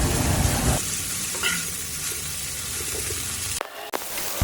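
Okra stir-frying in an open, uncovered pan, a steady close sizzle that drops to a softer, even frying hiss partway through, with a brief stir or clatter near the end.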